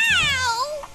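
A cartoon cat gives a single drawn-out meow, bright and close, that slides downward in pitch and fades within about a second.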